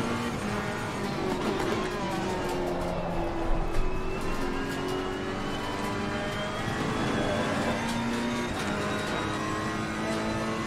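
Ferrari GT3 Evo engine at full throttle around Oulton Park in Assetto Corsa Competizione, a sustained loud droning roar with shifting pitch as it accelerates, with no talking.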